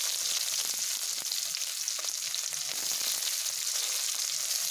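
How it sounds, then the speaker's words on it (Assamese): Onions fry in hot oil in a wok, a dense, steady sizzle with faint crackles running continuously and close, with no talking over it. "এতিয়া মই ইয়াত পিঁয়াজ এড কৰি দিছোঁ।"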